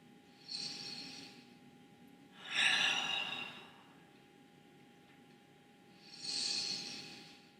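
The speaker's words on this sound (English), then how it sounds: "and we're going to breathe" Three slow, deep breaths during a beginner full-body stretching session, each a soft airy whoosh swelling and fading over a couple of seconds, with quiet pauses between and a faint steady hum underneath.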